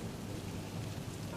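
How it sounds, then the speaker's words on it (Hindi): Steady rain hisses as a dense, even wash of noise with a low rumble underneath, filling the whole short moment at moderate volume with no voices. "इतने में बारिश शुरू हो जाती है।"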